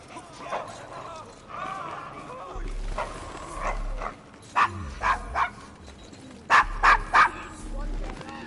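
Desmond, a dog in the Victorian London slum of Devil's Acre in the video game Assassin's Creed Syndicate, barks in short bursts of two and three under a low ambient murmur, fairly close.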